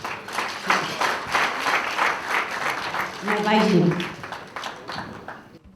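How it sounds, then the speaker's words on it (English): At a 2019 association meeting an audience claps in a lively, uneven burst that swells and fades, while a voice speaks over the applause partway through. "Give a round of applause once again, please."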